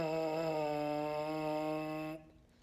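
A lone, close buzz into a large cup-shaped euphonium or baritone mouthpiece, a single rich, reedy tone held steadily for about two seconds before it stops abruptly.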